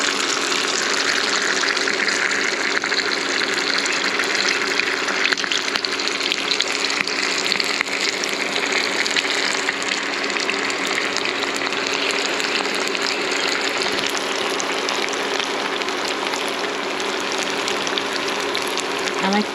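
A gluten-free egg roll deep-fries in a pot of oil outdoors, a loud, dense, continuous bubbling hiss with a steady hum underneath and no pauses.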